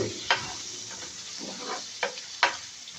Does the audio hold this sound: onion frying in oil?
yes